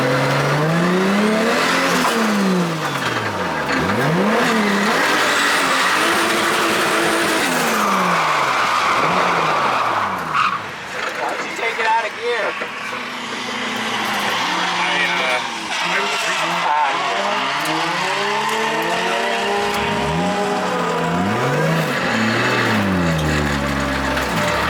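A BMW E36 fitted with a 500 hp 2JZ engine drifts with the engine revving hard and tires squealing in long sweeping wails, loud and close, rising and falling through repeated slides, with voices talking over it.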